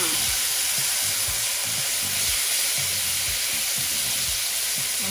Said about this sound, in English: We're gonna add in that beef that we set aside.